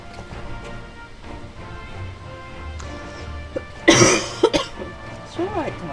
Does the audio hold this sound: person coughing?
yes